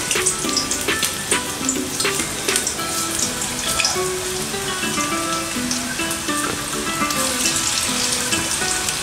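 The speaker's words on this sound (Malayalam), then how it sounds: "വറുത്തെടുക്കുക." Spoonfuls of vegetable pakoda batter frying in hot oil give a steady, dense crackling sizzle with fine popping throughout, heard close up with no talk.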